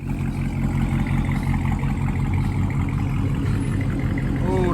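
A Dodge Charger Scat Pack with a muffler delete rumbles heavily with a loud, deep, steady exhaust drone at close range, outdoors with no talk over it.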